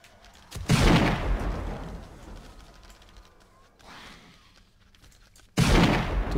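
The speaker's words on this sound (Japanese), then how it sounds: "こっち爆撃、爆発してますね。" Bombardment and explosions in the zombie game 7 Days to Die arrive as two loud, sudden bursts, one near the start that fades slowly and one near the end, with quieter rumbling between them.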